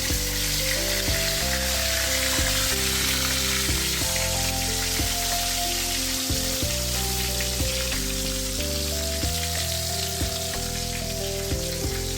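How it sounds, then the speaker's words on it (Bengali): Koi fish fry in hot oil with a loud, steady sizzle. Sharp pops and crackles break through it now and then. The sound runs close and continuous, and nobody speaks. "এইভাবে আমি কই মাছগুলো ভেজে নিই"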